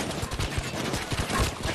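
Rapid gunfire in Payday 2, a dense run of overlapping shots and bursts at close range, loud and steady across the whole moment with no voices.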